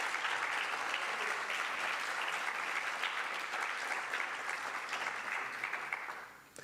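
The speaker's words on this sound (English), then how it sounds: "I beg an applause for them as well." A graduation ceremony audience for a cybersecurity and cyberintelligence program applauds steadily, a dense even wash of many hands clapping that holds for several seconds before tapering off at the end.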